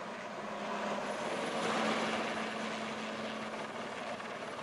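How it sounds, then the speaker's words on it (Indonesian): A helicopter water-bombs a burning landfill, its rotor and engine a steady, fairly distant drone that swells slightly midway and holds on, with no talk. "Proses pemadaman menggunakan helikopter."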